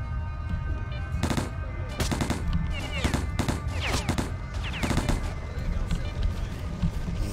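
Rapid bursts of automatic gunfire and scattered single shots in the video game Stalker Lost Alpha, loud and repeated over a steady droning game background, with someone talking over it in German.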